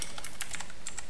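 Quick, light clicking of keys on a computer keyboard, a short burst of about eight taps in an uneven rhythm, close and fairly quiet, with nothing else heard.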